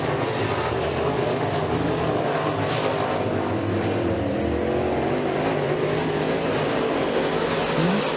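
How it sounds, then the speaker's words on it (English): Late model race cars in a RUSH B-Main event at Woodhull Raceway roar continuously as they race. The engine noise stays loud and steady, with no pauses, and no voices are heard. "Knowles takes off now from Carly"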